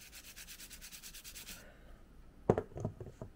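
Someone polishes a vintage Back to the Future clock with a rhythmic rubbing, a quick series of close back-and-forth strokes that stops. A few sharp handling knocks and taps follow.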